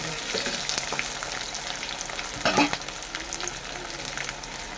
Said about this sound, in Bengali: দেখুন পেঁয়াজগুলো হালকা হালকা ভাজা হয়ে গেছে